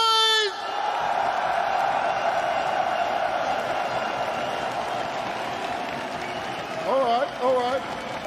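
A large esports arena crowd at the PGL Antwerp Major grand final roars and cheers for FaZe Clan, a dense sustained wall of whoops and applause, with a voice rising over it near the end.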